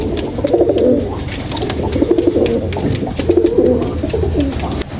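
A pair of Saharanpuri golden pigeons coos close by, repeated throaty rolling calls in uneven bursts that overlap one another, with no talking.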